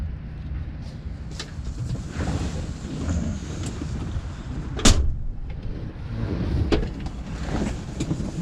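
A 1967 Ford Mustang convertible with a 289 V8 on a test drive, heard as a steady engine rumble under heavy wind buffeting from the open top, with a few sharp thumps and no talking.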